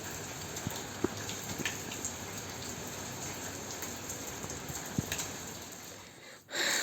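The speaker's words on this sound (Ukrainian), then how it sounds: "Люблю дощ." Steady rain falling outdoors, a continuous hiss with a few scattered louder drops, ending in a brief dip and a sudden louder burst.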